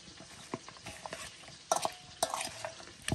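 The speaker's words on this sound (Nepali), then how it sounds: "यहाँ चाहिँ अब यसरी मोल्नुपर्ने हुन्छ" Food stirred and mixed in a pan, giving scattered scraping and clinking strokes in an uneven rhythm, close by, with a couple of louder scrapes near the end and no talking.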